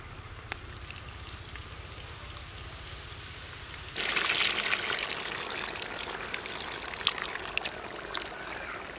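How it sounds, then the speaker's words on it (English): Tamarind juice poured into a pan of dry salt fish curry at a street kitchen, heard as a steady liquid trickle that turns into a louder, splashing gush partway through, close by with no talk. "tamarind juice"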